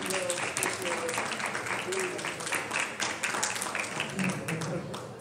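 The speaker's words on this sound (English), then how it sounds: "Give him a big round of applause." Audience applause for Mr. Shankin at a house meeting, a moderate scattered clapping of a smallish group with voices and cheering mixed in over it.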